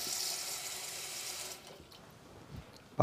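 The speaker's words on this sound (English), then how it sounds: "we're just gonna put those into a little pan, and we're gonna add some water" Water runs from a tap into a small pan of pearl onions, a steady hissing splash for about a second and a half before it stops, leaving quiet faint kitchen sounds.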